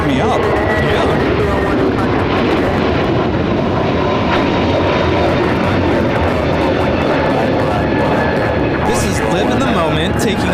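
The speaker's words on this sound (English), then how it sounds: "Live in the moment, taking off to JFK on JetBlue 424. It's an A321 Neo." A JetBlue Airbus A321neo takes off from LAX for JFK with a loud, sustained engine roar and a whining tone. Voices and radio chatter carry on over the noise throughout.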